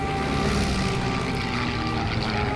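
Kamikaze propeller aircraft attack in a large formation, a dense droning engine roar with steady tonal whine, loud and continuous, with no voices.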